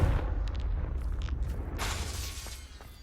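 Confringo spell explosion in Hogwarts Legacy, a deep rumbling blast with crackling debris bursts, fairly quiet and fading gradually over a few seconds.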